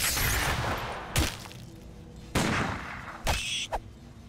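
Shots from a pistol in Legend of Grimrock 2, three or four sharp separate bangs spaced about a second apart, each with a short noisy decay, close and loud with no talk.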